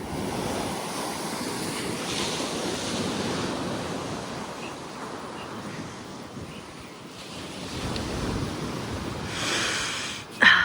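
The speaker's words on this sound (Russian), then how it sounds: "слушаю океан." Ocean waves wash onto a private hotel beach in Muscat, Oman, making a continuous soft roar of surf with gentle swells and some wind noise. A brief bump sounds near the end.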